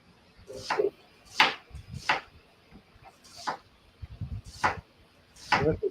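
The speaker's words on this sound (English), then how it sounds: "Let's chopping the onion." Knife strokes chop through an onion on a cutting board in a home kitchen, about eight sharp, irregular cuts close by.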